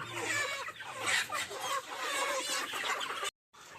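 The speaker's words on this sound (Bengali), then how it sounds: "এখন হচ্ছে তৃতীয় নাম্বার গাড়ির মুরগি মাপা ধরা হইতেছে মুরগি তৃতীয় নাম্বার পালার মুরগি ধরা হচ্ছে" Sonali chickens cluck and squawk in a dense, continuous flock chorus as they are caught for sale, close and busy throughout, with a brief drop to silence near the end.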